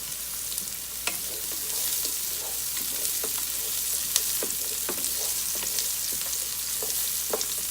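Onions and mushrooms sizzle steadily in a hot pan, a dense continuous hiss broken by scattered crackles and pops, close and fairly loud with no voices.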